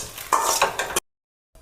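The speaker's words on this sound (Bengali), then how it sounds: "তারপরে এইরকমভাবে ভালো করে নেড়ে চেড়ে চিলি চিকেন ড্রাই রেসিপিটা খুব সুন্দর করে স্পাইসিনেস করে বানাতে হবে।" Fried chicken is stirred through sauce for dry chilli chicken, with a few close scraping, clattering spatula strokes in a sizzling pan that stop abruptly into silence.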